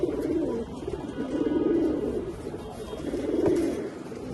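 Silver Jabra pigeons coo in low, throaty rolling phrases, repeating several times close by over a faint background hum.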